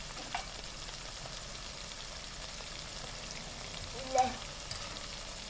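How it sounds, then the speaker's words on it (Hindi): Potato snacks deep fry in hot oil toward golden, a faint, steady sizzle with a soft stir or bump near the end and no voice. "इसको हमने अब गोल्डन होने तक फ्राई करना है"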